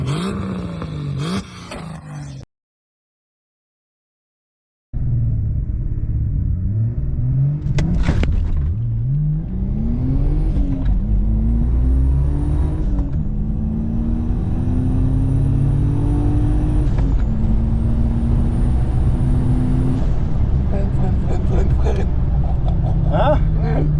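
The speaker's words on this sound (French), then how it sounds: "Nous voilà donc à faire des tests avec le launch pour rééquilibrer le duty cycle de la wastegate" Toyota 2JZ-GTE engine in a car during launch control tests with wastegate tuning, a loud sustained rumbling drone that rises in pitch as revs climb, with a brief silence early on and voices talking over it.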